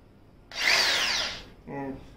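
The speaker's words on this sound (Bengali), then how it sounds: "আমরা এখন ড্রিল মেশিনটা একটু চালিয়ে দেখছি" An Elecx Gold electric drill runs in one loud burst of about a second, its whine winding up and settling, then a shorter, quieter pulse follows.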